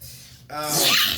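A single sharp sneeze bursts out close and loud after a brief indrawn breath, during a casual chat.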